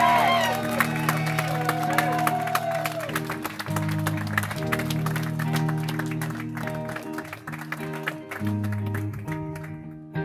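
A small gallery crowd claps and cheers for a musician during a live concert, scattered applause and whoops over sustained instrument tones ringing on underneath.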